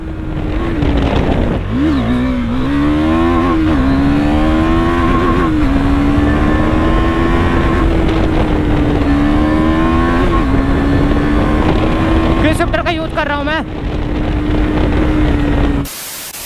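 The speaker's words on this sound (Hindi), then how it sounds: "यहाँ से भाई थोड़ा खींचेंगे 390 को" A KTM Duke 390 motorcycle pulled hard at full power, its engine note climbing through several gear changes with rising and dipping revs, loud and close against wind rush.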